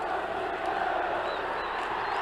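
Vasco football supporters fill a stadium with a steady, dense roar of crowd chanting for the tricampeão title at the 1994 Carioca championship, a continuous wall of massed voices with no breaks.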